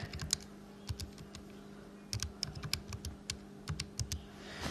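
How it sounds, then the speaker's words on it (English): Key presses on a calculator while entering numbers: short sharp taps in two quick irregular bursts, close and fairly soft, with a steady low hum underneath and no talking. "And I'll type that in my calculator."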